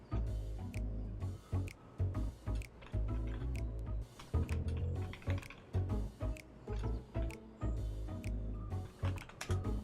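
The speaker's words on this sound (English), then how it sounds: "Sorry. Typing." Rapid keyboard typing clatters in uneven bursts against a steady low backdrop, with no voice over it.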